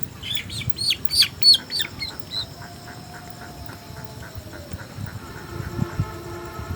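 Sonali chickens cluck and chirp in a run of short, sharp calls during beak trimming, livelier at first, then settling under a low, steady background rumble.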